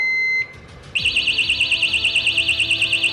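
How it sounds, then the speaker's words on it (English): A steady electronic tone cuts out, then a loud, shrill tamper alarm starts up and keeps pulsing in a fast, regular warble close by. "If somebody messes with this, it'll start beeping, and then this alarm's going to go off."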